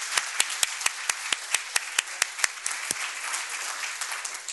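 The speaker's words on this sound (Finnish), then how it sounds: "Annetaan panelisteille raikuvat aplodit." An audience at a panel discussion claps for the panelists, a scattered burst of applause with sharp individual claps that thickens into steady clapping.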